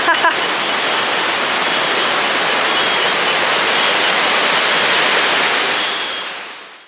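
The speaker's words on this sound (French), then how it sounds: "c'est beau, il y a un débit d'eau impressionnant." A waterfall with a strong, heavy flow of water gives a loud, steady roar that continues evenly throughout and fades out only at the very end.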